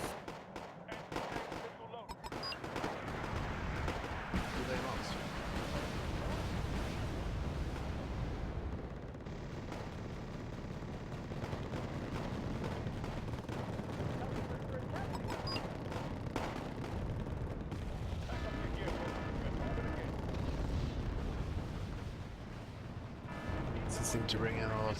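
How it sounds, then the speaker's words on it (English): Sustained artillery bombardment of a town in the war strategy game Wargame: AirLand Battle, a dense, continuous rumble of blasts and crackling explosions running throughout, loud and unbroken. "Seems that they will bombard the town."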